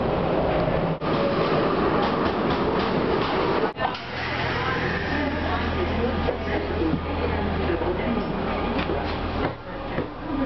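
A Paris metro train, heard from a moving walkway inside the metro, makes a loud, steady rumble with a low hum that runs the whole time. Faint voices sit in the background.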